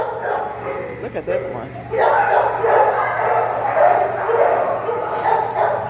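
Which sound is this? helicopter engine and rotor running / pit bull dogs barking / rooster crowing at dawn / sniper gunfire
pit bull dogs barking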